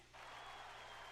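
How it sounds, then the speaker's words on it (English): A courtroom crowd in the video game The Great Ace Attorney cheers and applauds after a not-guilty verdict, a dense, steady roar of clapping and voices that swells in after a brief quieter moment and holds loud throughout. "look at everybody that's cheering"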